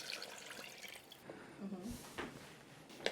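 Water poured from a cup into a stew pot holding beef bouillon cubes, a soft splashing gush with small drips, fairly quiet and close.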